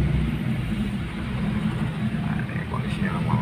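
A Toyota Starlet fitted with a TAC ignition system drives in traffic on Jalan Raya Ragunan, its low steady engine drone humming throughout with faint road noise.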